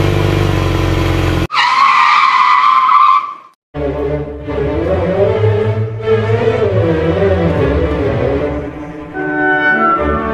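A cartoon motorbike ridden by a crow skids hard through a forest, a loud screeching burst with engine roar, then the noise drops away and busy cartoon sounds take over.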